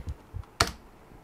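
A few keys are tapped on a computer keyboard at close range: two soft presses followed by one sharper, louder keystroke.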